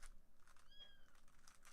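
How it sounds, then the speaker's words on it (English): Pet cat meowing faintly indoors, a couple of short high mews against low background noise, heard shortly after it has eaten. "Can you guys hear the kitty?"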